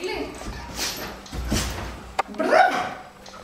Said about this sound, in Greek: Κοίτα, αυτό είναι έρημο σκύλο.